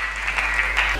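A congregation applauds during a church sermon, a brief stretch of dense, steady clapping from a crowd in a room.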